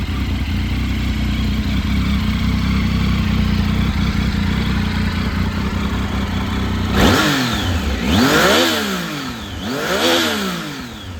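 A 2012 Triumph Tiger 800 XC with a Scorpion carbon aftermarket exhaust idles low and steady, then is revved hard three times in quick succession, each blip rising and falling sharply, loud and close with no voices.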